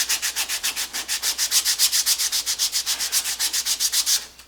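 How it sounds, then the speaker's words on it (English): Rhythmic sanding strokes rub back and forth across a hand-carved wood piece, about twenty-five even passes, close and steady, with no talking. "Now I'm going to sand it."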